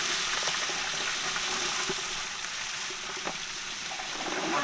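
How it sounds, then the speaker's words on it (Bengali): Winter vegetables, including eggplant, potato, carrot, spring onion, cabbage and cauliflower, hit a hot pot for village-style Bengali khichuri, giving a steady close sizzle and hiss with scattered light clicks and stirring sounds throughout. "এখন আমরা সবজিগুলো দিয়ে দিব।"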